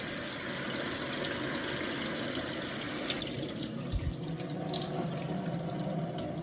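Tap water running steadily over a Sealskinz waterproof glove, a continuous close splashing gush lasting several seconds with slight variations as the flow shifts.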